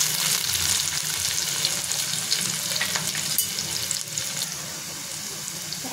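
Chopped onion sautéing in a pan for a wild-vegetable dish, giving a steady, close sizzle with occasional light scrapes of stirring, continuous throughout with no talking.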